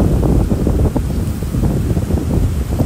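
Strong wind blowing steadily at Praia de Cotovelo beach in Parnamirim, near Natal, loud buffeting gusts on the microphone over a low rumble of sea surf, with no voices.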